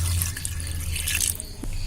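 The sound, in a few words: water poured into pressure cooker with tapioca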